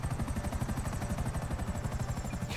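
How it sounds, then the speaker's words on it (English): A GTA 5 video-game helicopter thrums steadily and loudly throughout, its rapid rotor chop pulsing without a break, with a faint high whine riding above the beat. "I'm pretty sure you can land a fucking helicopter in here"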